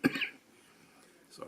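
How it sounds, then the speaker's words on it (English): A single short cough at the start, close to the mic, from someone at a workbench building an Airfix 1/72 Hawker Demon model kit, followed by quiet room tone and a faint breathy sound at the end. "Sorry, I've had a bit of a cough lately."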